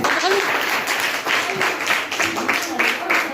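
An audience at a business seminar celebration applauds loudly for the speaker, a thick burst of clapping with a voice heard over it.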